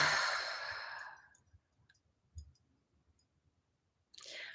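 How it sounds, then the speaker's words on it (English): A long, deep breath out during an emotional freedom tapping session, a breathy sigh that fades over about a second, followed by a few faint clicks and a second breath near the end, with no talk. "and breathe."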